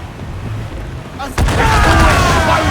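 Naval battle in Assassin's Creed IV: Black Flag, wind and sea noise giving way to a loud, close cannon boom that leads into sustained rumbling broadside fire, with shouted voices around it.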